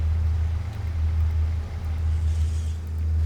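Tractor engine idling in Farming Simulator 25, a steady low droning rumble with a constant hum and faint airy noise above it, heard alone without talk.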